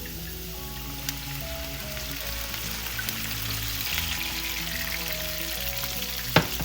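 Vinegar sizzles steadily in a pan of frying fish for a Filipino escabeche, a constant close crackle with faint spattering pops and a low background hum.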